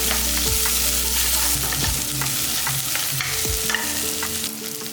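Small shallots frying in a pan for okra sambar, a steady loud sizzle broken by several scraping stirs, with no voices.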